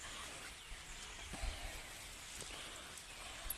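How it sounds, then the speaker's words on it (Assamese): Rain falls steadily in Rajasthan, a soft, even hiss of drops on surfaces with a few slightly louder patters, continuous and moderately faint. "আজি আমাৰ ইয়াতে ৰাতিপুৱাৰ পৰা বৰষুণ আহি আছে ৰাজস্থানত।"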